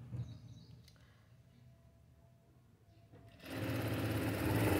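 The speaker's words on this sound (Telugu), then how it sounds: "ఇలా కుట్టు వేసేసుకుంటున్నాం." A sewing machine stitching thread piping starts up near the end and runs loud and steady after a quieter stretch of low room noise.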